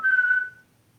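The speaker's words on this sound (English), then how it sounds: "Did you just hear that whistle?" A single clear, high whistle held steady for about half a second, then fading out into quiet.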